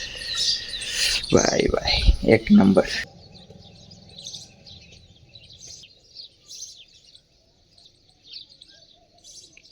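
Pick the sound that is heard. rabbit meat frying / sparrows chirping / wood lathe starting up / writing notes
sparrows chirping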